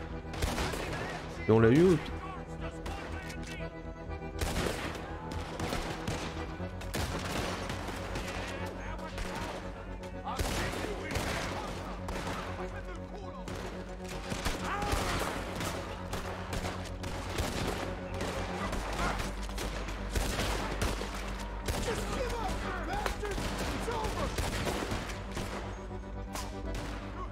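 Gunfire cracks repeatedly through a shootout in Red Dead Redemption 2 on Guarma, sharp single shots and clustered volleys spaced across a long stretch over music and ambience, with someone talking briefly.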